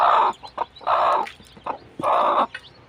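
Brooding hens set to hatch chicks cluck close by in three loud bursts, with softer clucks in between and no talking.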